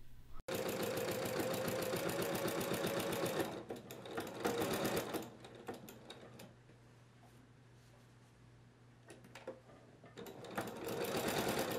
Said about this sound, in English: So we're gonna top stitch this with 1/8 of an inch of seam allowance.